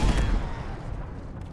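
A portable tank gun fires in Halo Infinite, a single heavy low boom at the start that decays into a rumbling tail, fairly close.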